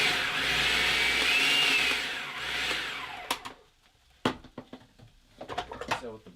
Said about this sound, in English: Let me show you what happens when you put it through the blender.